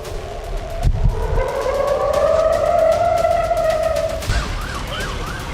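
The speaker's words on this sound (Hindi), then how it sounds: "हर गली में सायरन की गूंज" Rising and falling air raid sirens wail loudly and continuously in Israel during Iranian missile strikes, with a second siren's faster warble joining near the end over low rumbling background noise.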